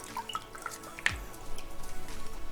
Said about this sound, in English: let all the water dribble out of it